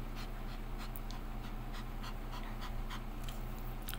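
A dog pants steadily and close by, with quick rhythmic breaths over a constant hum in a home in Cavite.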